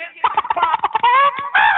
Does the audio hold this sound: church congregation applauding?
no